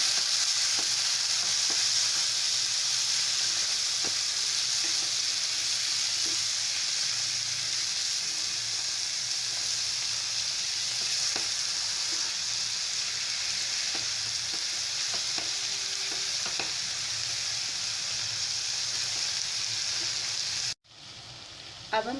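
Potatoes and fenugreek leaves with red chili powder frying in a pan for aloo methi, a loud continuous hiss and sizzle with faint occasional stirring scrapes, steady throughout and close, then cut off abruptly near the end.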